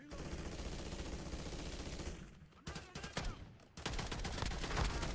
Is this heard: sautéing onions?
no